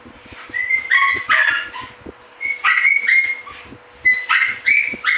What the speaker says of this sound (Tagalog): Kay maingay yung aking aso.